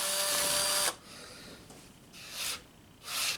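A cordless drill whirs loudly through a hole for under a second and stops, followed by two brief soft rustling bursts from handling, with no talk.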